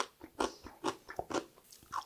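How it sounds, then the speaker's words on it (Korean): Crisp, rhythmic crunching of dongchimi radish from Korean water kimchi, close bites and chews repeating about every half second, loud and alone. "무가 정말 아삭아삭하고 너무너무 맛있어요."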